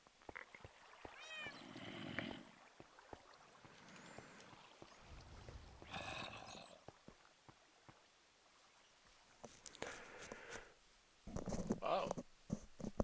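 In a hardcore vanilla Minecraft 1.17.1 game, a cat meows now and then in short, faint cries. Soft ambient noise sits underneath, and a player talks quietly in between.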